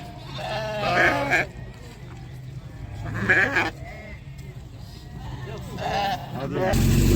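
Sheep and lambs bleating at a livestock market, several loud wavering calls in irregular bursts amid crowd noise and people talking.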